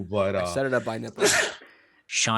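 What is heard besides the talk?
sneeze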